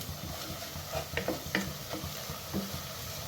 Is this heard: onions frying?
yes